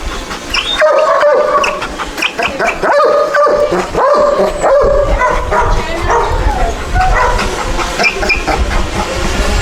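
Stray dogs at a municipal dog shelter bark loudly and repeatedly, several voices overlapping in close, uneven bursts, with occasional yips and whimpers and a steady background hiss.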